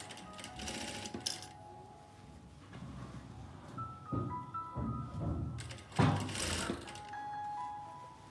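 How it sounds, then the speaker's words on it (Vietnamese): Sewing machine slowly stitching a two-layer dress sleeve, soft uneven mechanical whirring and clicking in short bursts with fabric handling noises, close and fairly quiet throughout. "Thì sẽ may rất là chậm để cho cả nhà nhìn nhé."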